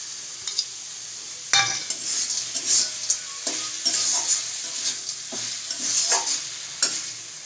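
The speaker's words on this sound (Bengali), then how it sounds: "আমি এবার বড়ি ভাজাটা ছড়িয়ে দিয়ে মিলিয়ে নামিয়ে নেব" A spatula stirs fried lentil bori into cooked greens in a hot kadai, scraping and knocking against the metal in uneven strokes over a steady soft sizzle, with no voices.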